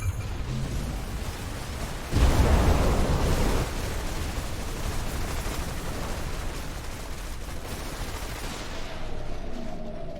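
Sustained gunfire in the mech tactics game Phantom Brigade, a dense, noisy barrage with a sharp loud burst early on, then a steady rumbling wash of fire that keeps going to the end.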